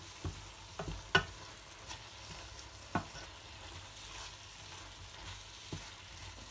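Ridge gourd and toor dal with red chilli powder being stirred in a frying pan over a gas flame: scattered soft scrapes and clicks of a spoon against the pan over a faint low sizzle, no voices.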